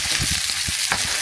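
Chicken sizzles in a hot pan with a little avocado oil, a bright constant frying hiss with soft stirring thumps underneath, close and steady with no voices.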